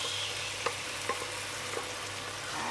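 Mung beans sautéing in oil in a pan, a steady soft sizzle and hiss with a few faint clinks of stirring, fairly quiet and with no voices.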